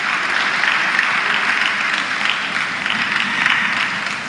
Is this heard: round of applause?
yes